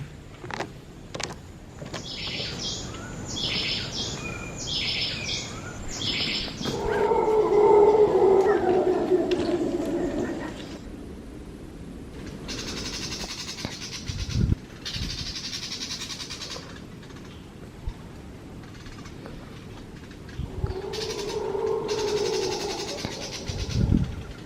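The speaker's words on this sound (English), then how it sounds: "Those sounds came from 2 different families of howler monkeys." Howler monkeys in Cahuita National Park, Costa Rica, roar in long droning bouts at a distance through the forest, two groups trading calls over steady insect buzz.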